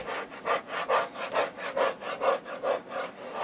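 Paper being burnished down onto a 6 x 6 craft album page, a rhythmic back-and-forth rubbing scrape repeated about eight times in quick, even strokes, close and alone.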